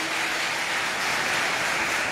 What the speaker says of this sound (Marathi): आपण टाळ्या वाजूया दोंडाईच्यासाठी.